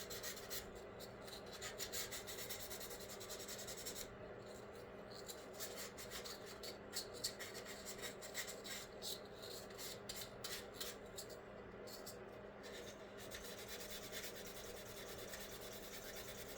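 Fine sandpaper rubs over putty on a Revell 1/48 P-40B Tiger Shark plastic scale model in soft, quick back-and-forth strokes, faint and close, pausing briefly between bursts of scratching.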